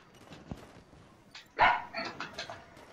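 Dogs barking inside a Halo 5 game session, a burst of sharp barks at moderate distance over a low background hum, with a few quieter yips trailing after.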